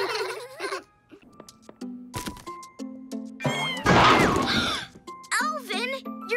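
A cartoon kitten meows several times in short, rising and falling cries, mixed with light tinkling chimes, soft thunks and bursts of cartoon voices talking.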